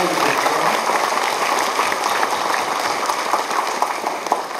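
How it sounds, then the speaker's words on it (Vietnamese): A church congregation at a Catholic Mass in a Cistercian abbey claps in a steady, dense round of applause that fills the room evenly for several seconds. "Xin cộng đoàn chúc mừng Tân Việt Phụ và một tràng pháo tay."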